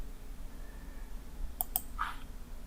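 Computer mouse clicks while working in Inventor 3D modelling software: two sharp, close clicks in quick succession, then a softer, brighter tick, all over a low steady background hum with no talking.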